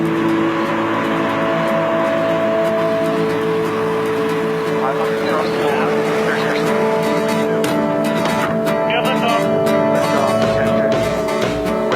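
The engines of a large test aircraft with an airliner-sized wingspan run at full throttle, giving a steady droning whine with sustained tones and a rising rush of noise toward the end.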